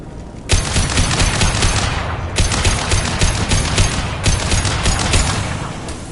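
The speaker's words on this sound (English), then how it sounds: "Blue Suns and Vorcha shooting anything that moves" Rapid automatic gunfire from Blue Suns mercenaries and Vorcha in the game Mass Effect 2 Legendary Edition, dense overlapping bursts of loud, close shots that start abruptly and keep hammering almost without pause, with heavier thuds mixed in.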